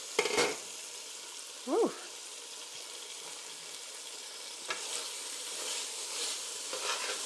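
Chicken karahi sizzles gently in a pan, a constant soft frying hiss with a few louder bursts of stirring and scraping, and a brief exclaimed voice early on.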